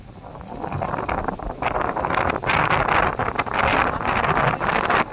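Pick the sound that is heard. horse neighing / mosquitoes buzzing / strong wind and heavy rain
strong wind and heavy rain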